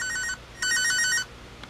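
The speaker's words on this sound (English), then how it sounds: "let's pick like a random ringtone" A ringtone plays on an LG Rumor Touch phone: two short bursts of bright electronic trilling tones, loud and close, with a brief gap between them.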